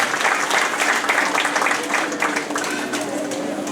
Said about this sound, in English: Let's give them all a round of applause and congratulations to all of them